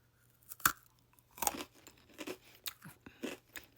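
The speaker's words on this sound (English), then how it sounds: "Nice and crunchy" Several crisp crunches from biting and chewing a hard, dry vanilla pretzel, close up, in an irregular rhythm with short pauses between bites.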